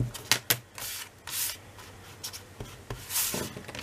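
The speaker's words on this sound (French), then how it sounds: "Je vais juste enlever mes traces de gomme." An eraser rubs away marks on a paper scrapbook page, giving a series of close, soft brushing scrubs in uneven bursts with short pauses and no speech.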